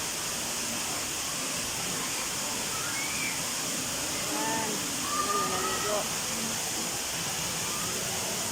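Constant broadband rush of flowing water outside a rock tunnel near caves, fairly close and steady, with faint voices murmuring briefly underneath midway.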